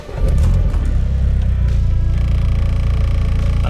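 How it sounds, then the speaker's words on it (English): A VW Polo 9N3 GTI engine cranks and catches near the start, then settles into a steady, loud low rumbling idle that continues to the end, heard close up with no talking. "And the car starts perfectly."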